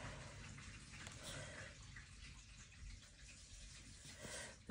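Household plumbing water runs somewhere in a home, a steady broadband rushing hiss that continues throughout at low level, fairly distant and unbroken.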